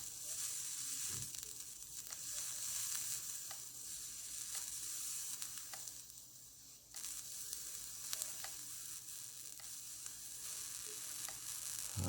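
Steady crackling sizzle with small pops throughout from a freshly cleaned, partly wet triple-fused coil in a Wotofo Elder Dragon vape, a close, continuous hiss that swells and eases in short pulsed bursts, with no voices.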